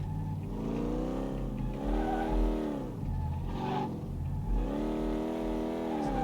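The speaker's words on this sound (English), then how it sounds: "I assume the muffler is a little too loud." A Chieftain Bandit car in the Car Mechanic Simulator 2018 video game revs through its loud muffler, its engine rising and falling in three long sweeping surges, steady and close throughout.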